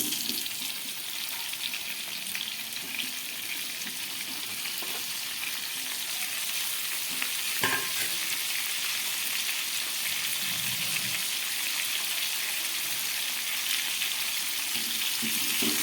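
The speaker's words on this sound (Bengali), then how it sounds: "এই বেগুনগুলোকে আমি ভেজে নিচ্ছি। আর সঙ্গে আলুগুলোকেও দিয়ে দিচ্ছি।" Eggplant and potatoes fry in hot oil in a pan with a steady, close hiss and sizzle that carries on without a break, a few soft stirring knocks showing through and no voices.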